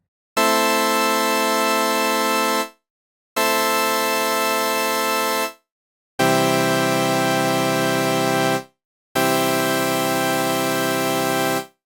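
Four sustained buzzy tones from a Mynth synthesizer using drawn sawtooth waveforms with added harmonics, bright and harmonically rich, each held for about two seconds and separated by short silences, with the pitch shifting between notes.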